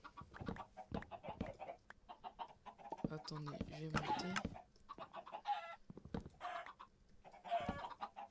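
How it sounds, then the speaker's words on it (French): Chickens cluck in short bursts with a rooster-like call in the middle, mixed with someone talking over them and game-like background noise. "Ici, il y a des poulets."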